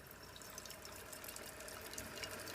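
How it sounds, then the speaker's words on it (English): A Keurig coffee machine runs water through its needles after descaling to unclog it. The water pours into a cup as a faint, steady, hissing trickle with no other sound on top. "you'll see now the water is pouring much quicker and faster out of the needles into the cup."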